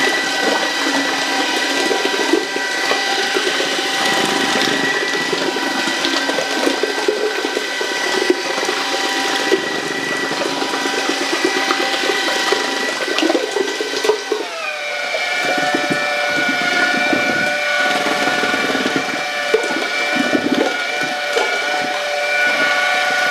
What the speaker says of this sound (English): Turn power up on mixer as well.